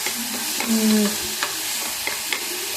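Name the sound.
spices frying in oil in a pan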